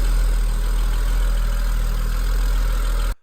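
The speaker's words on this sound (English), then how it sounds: "Another thing you want to take a listen for is any loud ticking in the engine" A used car engine idling, steady low mechanical hum with a faint regular ticking, close and continuous until it cuts off abruptly at the end.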